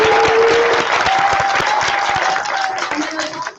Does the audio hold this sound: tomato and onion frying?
no